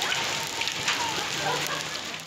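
Heavy rain with hail in Lahore, a dense close rushing patter that holds steady throughout, with no talk.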